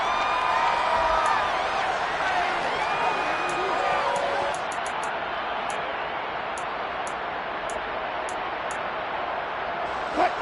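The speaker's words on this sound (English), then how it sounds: "Plenty of shouts from this crowd as they watch the replay." A large football stadium crowd shouting and whooping during a replay, a dense continuous roar from many voices with a few raised cheers, steady and loud throughout.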